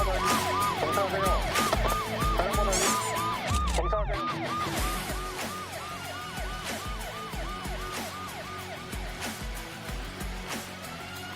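A police car's wailing siren cycles steadily up and down during a chase on a road at night, loud and continuous over rumbling traffic and engine noise.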